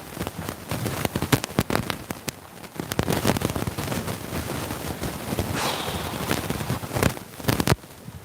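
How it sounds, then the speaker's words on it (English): Rain falls on an outdoor horse venue, a steady wet patter broken by sharp crackling bursts and clatters up close, with no talk. "Rains a lot here."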